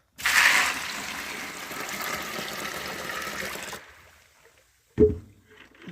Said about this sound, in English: I've got my water, and I'm going to add it.